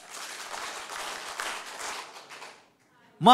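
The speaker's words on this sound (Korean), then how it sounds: "손바닥이 아플 정도로 박수 5번." A church congregation at a Korean revival meeting claps hands together in a loud, rapid burst that fills the room for over two seconds, then stops as a voice starts speaking.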